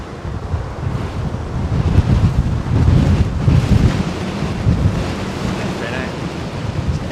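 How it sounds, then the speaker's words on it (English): Strong gusts buffet a microphone outdoors at Heathrow Airport, a loud, rumbling roar that swells and eases without letting up. "This flipping wind's so strong."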